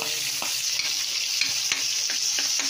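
Garlic frying in hot oil in a pan, a continuous bright sizzle broken by irregular scraping and stirring knocks, close by with no talking.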